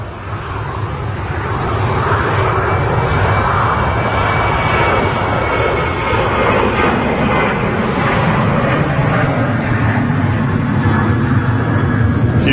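A fixed-wing airliner fitted with split scimitar winglets roars steadily at Manchester Airport, its engine noise building over the first two seconds, then holding loud and broad throughout, with no voices.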